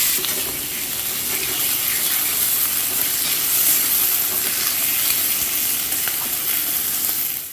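Garlic paste, chopped tomato and green chillies sauté in a pan for a Bhola fish curry, giving a loud, continuous sizzle and hiss throughout with no talking.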